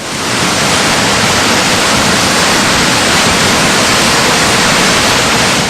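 Roaring floodwater of the swollen Ganges river in spate, a loud, unbroken rushing wash of churning waves that holds steady and close throughout, with no pauses and no voices.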